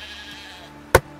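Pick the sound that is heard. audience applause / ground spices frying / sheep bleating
sheep bleating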